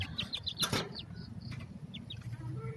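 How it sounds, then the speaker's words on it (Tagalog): Breeding hens of a gamefowl flock clucking in their pen, with short repeated calls over a low, busy farmyard background. "puntahan po natin yung aming mga inahin"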